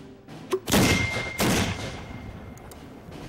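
Mortar shell or artillery round detonating, two heavy distant-sounding bursts with sharp attacks and rumbling decay, then faint lingering crackles.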